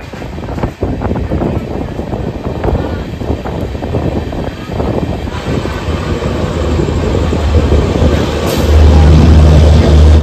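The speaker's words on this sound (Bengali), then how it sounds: "ছেড়ে দিল আমাদের ট্রেন সাঁতরাগাছি থেকে" The Jagannath Express runs out of Santragachi station with a loud, steady rumble and wind buffeting the microphone, the noise swelling slightly toward the end.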